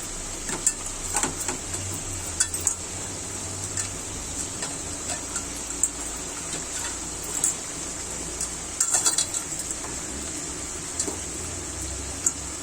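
Kalibaus fish pieces, cut, rubbed clean with salt and soaked, being mixed with spices by hand, giving soft wet squishing and irregular small clicks over a steady hiss, with no one speaking.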